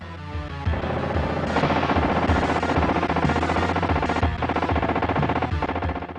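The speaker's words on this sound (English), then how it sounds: "you basically gun your way through various scenarios loosely based on the movie" Rapid video-game gunfire from T2 The Arcade Game on Super Nintendo, a dense continuous machine-gun rattle over loud game music, with no talking.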